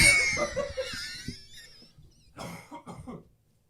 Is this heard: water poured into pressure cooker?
no